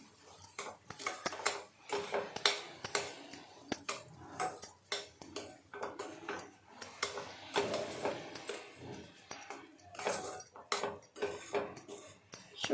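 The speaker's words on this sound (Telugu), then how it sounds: "ఈ షుగర్ని దీంట్లో వేసేసుకుందాం మిక్స్ చేసుకుందాం" A spoon scrapes and clinks against a pan while sugar is stirred into carrot halwa, giving steady, close clattering taps in an uneven rhythm with no talking.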